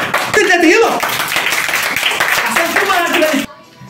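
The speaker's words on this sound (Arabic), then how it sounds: "تصفيق للطالب أيمن طويل" A children's audience claps for a student at a kids' entertainment event in a hall, with loud, brisk clapping running under a speaking voice that cuts off abruptly at the end.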